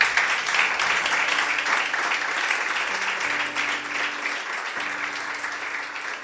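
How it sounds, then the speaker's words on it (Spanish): Steady applause from a church men's meeting fills the space, sustained and fairly loud, with faint organ-like tones held underneath. "Es un aplauso"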